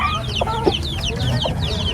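Chickens cluck in a busy farmyard, several overlapping calls and short squawks repeating steadily at close range over a constant low rumble, with no voices.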